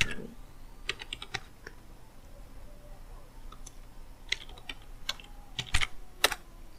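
Rapid keystrokes on a computer keyboard, close and fairly quiet, come in short irregular bursts with a few sharper key clicks near the end; no one speaks.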